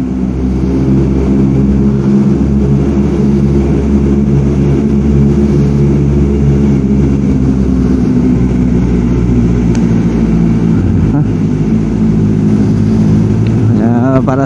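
Kawasaki ZX4RR motorcycle exhaust droning steadily while riding, a loud continuous engine note with wind rush, and a rider talking over it.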